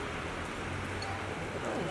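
Steady rain falls in a dense, even hiss through the whole stretch, with no separate drops standing out and no voice heard.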